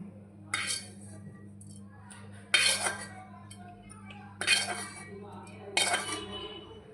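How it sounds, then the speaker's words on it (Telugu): Roasted tamarind tipped into a bowl with a spoon, giving four separate clinks and scrapes against the dish spread evenly apart, close up over a low steady hum. "చింతపండు అనేది వేగింది ఒక బౌల్లో తీసుకుందాం"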